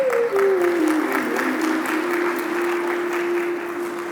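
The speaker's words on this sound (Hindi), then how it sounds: "और खाली ताली मत बजाओ।" An audience claps during a Hindi religious discourse at a Delhi math, a steady wash of hands with a sustained tone running across it.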